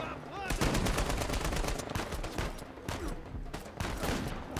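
Rapid gunfire from the Uncharted 4 video game, a dense loud fusillade of shots rattling almost continuously through the whole stretch with no voices.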